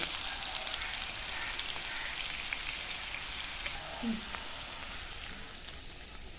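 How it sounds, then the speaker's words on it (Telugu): Onions fry with ginger garlic paste in a pan, a soft continuous sizzle with faint crackles, fairly quiet and steady throughout. "ఈ ఉల్లిపాయలు కూడా వేగినాయి కదండి చూడండి వేగినాయి ఇప్పుడు అల్లం వెల్లుల్లి పేస్ట్"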